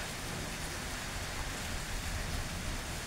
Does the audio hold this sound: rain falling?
yes